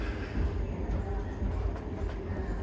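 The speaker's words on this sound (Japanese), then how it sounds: "このプラハから引いてきたこのベクトロン、この機関車を残したまま出発していくということになっております" Express train to Budapest pulls away from the platform with a Vectron locomotive, a steady low rumble of wheels and rolling stock with faint squeals and clanks, continuous and moderately near.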